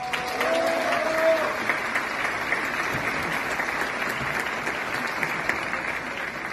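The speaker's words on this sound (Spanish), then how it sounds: "Un aplauso para ellos." Audience applauding firefighters at an award ceremony in an auditorium, a dense continuous wash of clapping from a large crowd, with a brief voice at the start.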